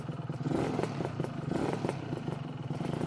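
A Lambretta scooter fitted with a SIP Nordspeed exhaust rides along in third gear, its two-stroke engine burbling at a steady mid pitch with slight rhythmic pulsing and clatter, close and continuous.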